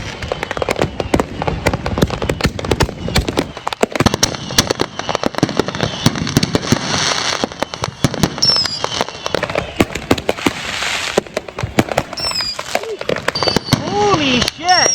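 Fireworks exploding at Ocean Shores beach in 2024, a dense barrage of sharp crackles, pops and bangs with whistling rockets near and far, alongside people's voices.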